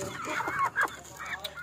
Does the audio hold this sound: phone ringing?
no